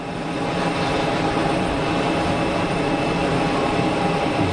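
An easyJet airliner departing Geneva Airport for Lisbon makes a loud, continuous, dense jet roar that stays level throughout, with no talking.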